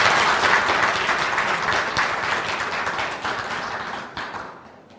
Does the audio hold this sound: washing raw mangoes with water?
no